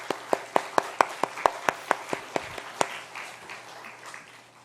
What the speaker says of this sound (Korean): 박수를 한 번 더 환영해 주십시오